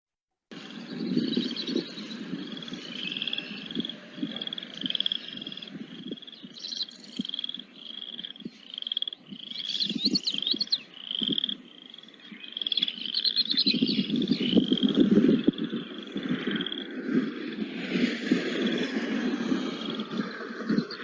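Frogs calling near a rainy wooded trail in spring, a dense steady chorus of repeated rhythmic croaks and trills running through the whole stretch, close and fairly loud, with insect-like chirring mixed in and no talking.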